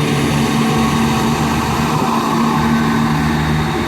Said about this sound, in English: And there goes 170 457 on the 11:04 ScotRail service to Glasgow Queen Street from Edinburgh.